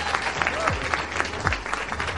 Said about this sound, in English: Let's have a big round of applause for Eva.